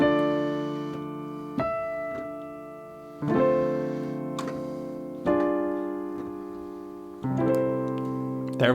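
Solo piano plays the final line of the second verse of a song, slow sustained chords struck at intervals of about two seconds, each ringing out and fading, close and alone.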